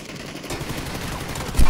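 Gunfire in the PUBG video game: a rapid, fairly loud stream of shots that ends with one heavier, punchy blast.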